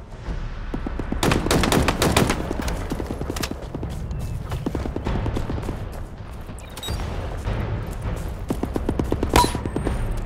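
Regular gun firing in Halo Infinite, bursts of rapid sharp shots in clustered volleys with short gaps, loud and close over a busy game soundscape, a brief voice now and then.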